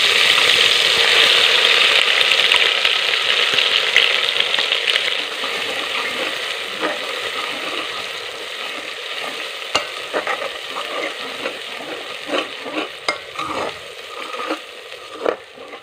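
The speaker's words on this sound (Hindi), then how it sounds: "सबसे पहले हम कुकिंग ऑयल में अदरक और लहसुन का पेस्ट डाल के फ्राई कर लेंगे।" Ginger and garlic paste fries in hot cooking oil with a continuous sizzle, fading gradually while scraping clicks from stirring break through toward the end.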